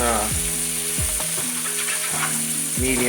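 Bacon frying in a pan over medium heat, a steady close sizzle running throughout with faint clinks and shifting tones from the pan.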